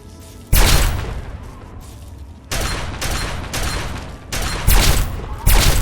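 Bursts of loud gunfire crack out in Fallout 3 combat, several dense volleys separated by short gaps, close and heavy, with faint game ambience between.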